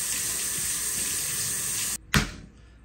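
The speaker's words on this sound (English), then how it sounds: "Rinse your meat." Running tap water splashes steadily as pork belly is rinsed in a sink, then the flow cuts off briefly and returns with a louder burst before fading, close and alone.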